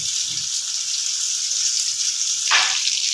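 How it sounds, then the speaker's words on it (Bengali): Continuous bright hiss and sizzle of cheese potato balls deep-frying in hot oil, with a brief louder surge near the end. "আমার একটা একটা বল ভাজা হয়ে যাচ্ছে"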